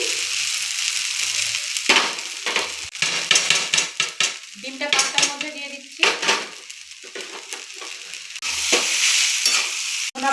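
Eggs are stirred into leafy greens frying in a pan, with sharp scraping and clattering strokes of a utensil over an intermittent sizzle, loud and close with uneven rhythm.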